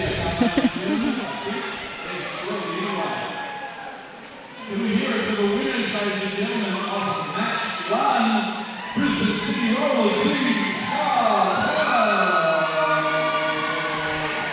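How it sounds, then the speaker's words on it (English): A roller derby cheer squad at a national tournament whoops and cheers in a raised crowd roar, with shouting voices rising and falling over a steady arena din. "Sounds like the Scartel cheer squad are happy with those results."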